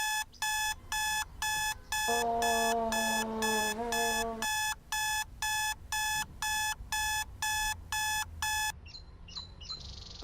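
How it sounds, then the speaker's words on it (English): An iPhone alarm rings in a loud, evenly spaced series of about sixteen bright electronic pulses. A lower sustained tone joins briefly partway through, and a few different, softer chirps follow at the end. "Not only that alarm, but the actual iPhone alarm."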